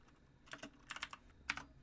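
Rapid computer keyboard typing in a few quick clusters of keystrokes, close but faint over a steady background hiss.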